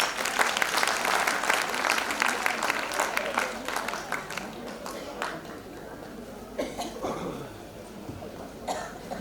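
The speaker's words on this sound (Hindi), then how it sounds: "तो सखी संगठन के लिए खूब खूब ताली" An audience applauds for the Sakhi Sangathan women's group at a silver jubilee programme, a sustained round of clapping that thins out, with coughs and throat clearing from the crowd.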